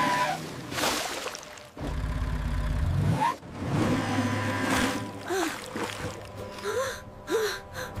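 A cartoon vehicle's wheels spin and churn as it sinks into wet concrete mud at a construction site, a loud sustained whirring and grinding with rising whines, mixed with voiced exclamations.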